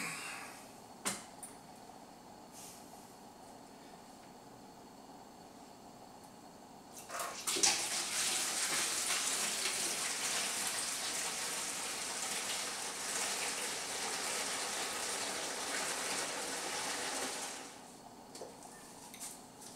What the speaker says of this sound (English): once I get the wort poured into there, I'll pitch the yeast, top off with some water